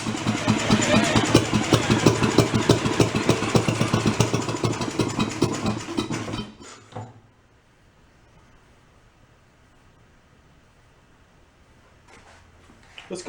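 An antique marine engine, left sitting for 35 years, runs loudly and steadily for about six seconds with a rapid chugging beat, then cuts out and leaves near silence.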